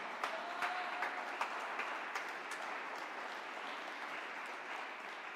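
A church congregation claps together during a sermon, a sustained, even roar of applause with scattered sharper claps, heard from some distance and without talk.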